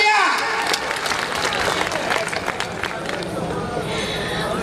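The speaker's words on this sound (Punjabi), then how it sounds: "ਭਰਪੂਰ ਤਾਲੀਆਂ" Hearty applause from an audience at a Punjabi-Saraiki mushaira poetry gathering, dense steady clapping that fills the whole stretch, with voices mixed into the crowd noise.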